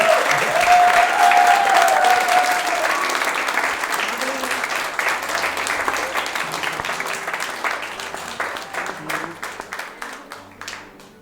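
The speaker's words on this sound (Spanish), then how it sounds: "Le damos un fuerte aplauso." A church congregation breaks into strong applause that fills the room. A voice is heard at the start, and the clapping runs steadily for about ten seconds, then thins into scattered claps and fades.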